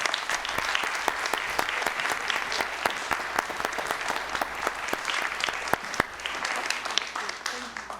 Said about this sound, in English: let's just give one big round of applause to these 26 students